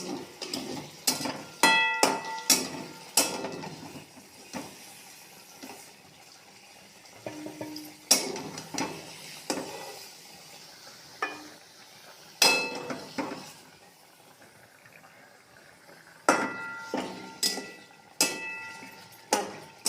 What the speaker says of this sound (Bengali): কড়াইয়ের মধ্যে যেগুলো লেগে গেছে সব চেঁচে রেখে দেবেন তেলটাকে।